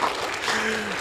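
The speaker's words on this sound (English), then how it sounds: "In fact, the better the applause, the warmer we get" A short burst of business convention audience applause, continuous dense clapping with a faint voice or tone threading through it.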